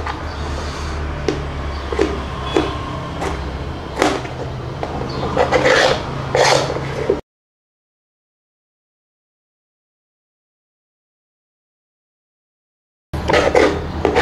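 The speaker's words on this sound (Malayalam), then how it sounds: "തക്കാളി ചെറുതായി അരിഞ്ഞെടുക്കണം." A knife finely chopping tomatoes on a kitchen board for a home fish curry: close, irregular taps and scrapes for several seconds, then a long silence before the chopping resumes.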